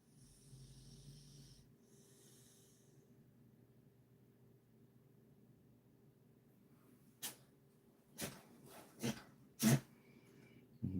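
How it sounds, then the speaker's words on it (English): Several sharp, sudden sneezes or snorts from a dog, close and fairly loud, clustered near the end after a long quiet stretch. "Dog's just woken up with a sneeze."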